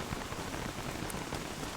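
Heavy rain pours in the Terraria video game, a dense, even hiss of drops drumming on surfaces that stays steady and fairly faint throughout, with no voices.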